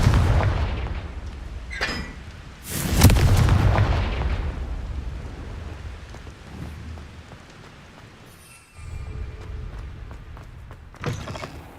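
A Confringo fire spell cast in Hogwarts Legacy sets off a loud, booming blast that rolls out into a long rumbling decay, with smaller cracks around it and a brief burst again near the end.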